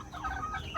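A mother hen clucks softly and repeatedly, close by, in a short run of low, throaty notes.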